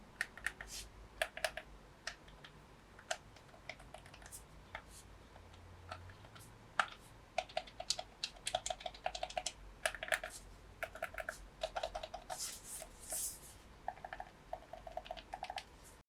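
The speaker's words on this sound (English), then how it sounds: "I'm going to have you guys listen to what the buttons sound like" Quiet, irregular plastic game controller button clicks tapped rapidly in uneven bursts, close by, with short pauses between flurries.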